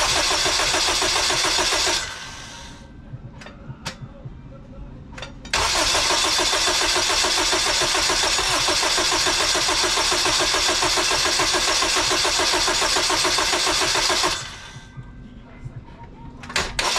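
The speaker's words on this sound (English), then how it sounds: "we're gonna crank the car over" Turbocharged Honda K20a2 car engine cranks briefly, catches and roars into a loud, steady run, then drops back near the end before a short restart, recorded close up with no talking.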